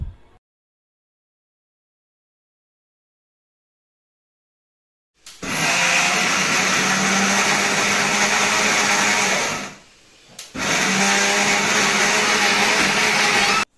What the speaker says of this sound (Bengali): তো আমার ব্লেন্ডার করা হয়ে গিয়েছে